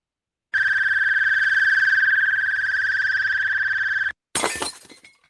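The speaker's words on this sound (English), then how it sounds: "Closing car door alarm. Ooh, an alarm." A steady electronic alarm tone sounds for several seconds, cuts off abruptly, and is followed by a sharp crash of breaking glass.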